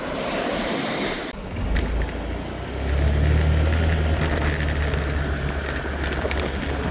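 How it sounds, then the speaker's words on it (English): Ocean waves wash onto a beach at Koh Larn, a steady broad surf rush with a swell building around three seconds, mixed with some wind noise and no speech. "the tides are coming in a bit now, look at the waves, look."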